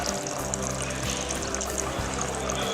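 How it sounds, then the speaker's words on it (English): Water layer poured out of a container while washing homemade biodiesel, a continuous splashing, gurgling stream at close range with no talking. "So carefully empty the water layer out."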